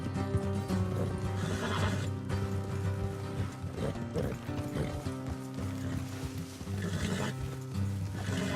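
Horse hooves pound in a steady galloping rhythm alongside neighing and whinnying, with music and ambient game sound layered underneath, in Red Dead Redemption 2.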